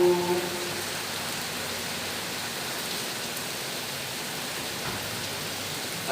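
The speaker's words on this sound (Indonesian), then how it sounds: "mungkin di luar hujan ya" Rain falling outdoors on a cloudy afternoon, a steady even hiss of drops that continues without pause, moderately loud and unaccompanied by speech.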